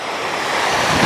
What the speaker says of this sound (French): Ça, les cascades.